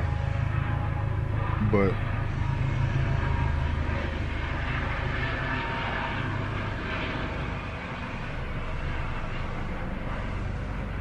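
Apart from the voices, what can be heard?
plane going by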